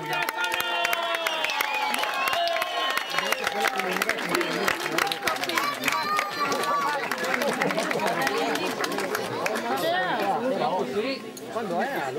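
Spectators at a junior bike race in Torreano di Cividale clap continuously for the race winner, a dense patter of applause with chatter and cheering mixed in, tapering slightly near the end.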